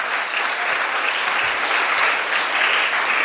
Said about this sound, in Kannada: ಶಾಲೆಯನ್ನು ಸ್ಥಾಪಿಸಿದ ಶಾಲೆಯ ಸಂಸ್ಥಾಪಕರಿಗೆ ನೀವೊಂದು ಗೌರವದ ಚಪ್ಪಾಳೆಯ ಅಭಿನಂದನೆಗಳನ್ನು ಸಲ್ಲಿಸಬೇಕು.